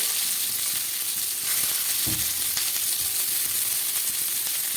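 Chopped onions sizzle in hot oil for an Andhra gutti vankaya masala, a steady bright hiss with occasional stirring scrapes, close and continuous, no voices.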